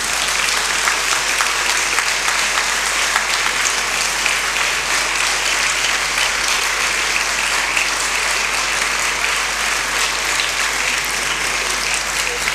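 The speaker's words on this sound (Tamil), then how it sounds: "உங்கள் ஆசிரியருக்காக ஒரு பலத்தை கைதட்டு கொடுங்க பார்ப்போம்." Students at a school anniversary celebration give their teachers a loud, sustained round of applause, steady dense clapping from a large crowd filling the whole stretch.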